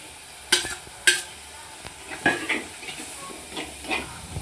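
Tomatoes frying in a pan in a home kitchen, a continuous sizzle and hiss broken by a few sharp scrapes and clanks of the spoon stirring against the pan, close and fairly loud.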